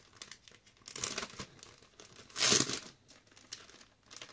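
A plastic package holding an Indigoblu moon stencil is opened up close, giving bursts of crinkling and tearing with one louder crackle near the middle.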